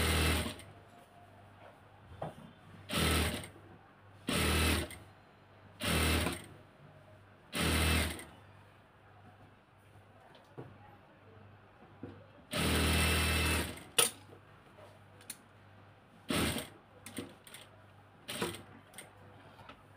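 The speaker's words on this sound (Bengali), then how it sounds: "এভাবে উল্টিয়ে নেওয়ার পরে এভাবে সিলে দিতে হবে।" Sewing machine stitching fabric seams for a garment design, running in repeated short bursts of loud whirring separated by quiet pauses, with one longer run in the middle.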